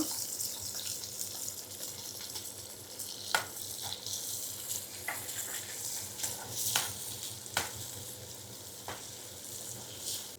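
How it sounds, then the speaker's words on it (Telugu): Onions, green chillies and curry leaves sizzle steadily in hot oil, a dense continuous fry with a few sharp spatters and scrapes of stirring standing out, fairly close and with no voices. "నూనె అయితే వేడైపోయిందండి ఇప్పుడు దీంట్లో ఉల్లిపాయలు పచ్చిమిరకాయలు కరివేపాకు వేసేద్దాం"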